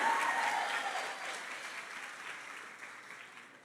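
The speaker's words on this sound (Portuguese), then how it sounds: "Vamos aplaudir o Senhor pela vida dela" Church congregation applauding during a service, a moderately faint wash of clapping that slowly fades out over a few seconds.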